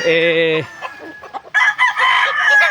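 Gamefowl stags crow in hardening pens on a farm, with one loud, near cock-a-doodle-doo at the start, followed by several shorter clucks and crowing calls layered over one another.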